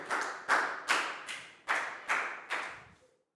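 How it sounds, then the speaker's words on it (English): Classmates in a Year 4 health lesson applaud a pupil at the front: seven crisp claps in a regular beat, each with a short room echo, ending after about three seconds with no speech. "Big round of applause for Chu."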